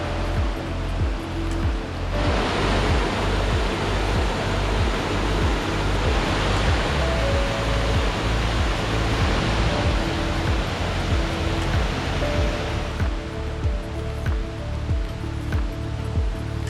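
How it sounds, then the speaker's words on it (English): Rushing water from cascades beside a hiking trail near Stowe, Vermont, with potholes carved in the rock. A loud, continuous broadband roar runs throughout, joined by steady low thumping, and no one speaks. "We finally got our full frontal view of the waterfall, or a bunch of cascades actually."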